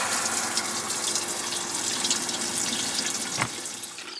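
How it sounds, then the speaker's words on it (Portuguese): A tap gushes water into a motorhome tank beside a road, a steady close hiss of running water with a brief thump near the end. "a gente aproveita que o tanque está enchendo e já enche a máquina"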